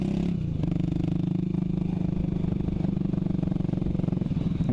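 A 2008 Honda CB400SS with a full exhaust system rides along, its steady, crisp engine note droning loud and close throughout with a pulsing rhythm.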